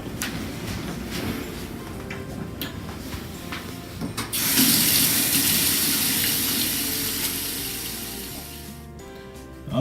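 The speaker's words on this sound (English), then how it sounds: "whenever handling food, you always want to wash your hands first with soap" Hands being washed with soap under a running kitchen tap, a steady rush of water that swells louder midway, with scattered knocks and clatter from the sink.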